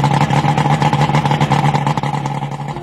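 A loud boat engine runs out of water at steady high revs while being flushed, harsh and buzzing with a rapid pulsing rhythm, close and continuous.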